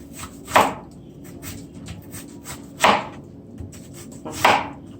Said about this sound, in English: Cutting the onion.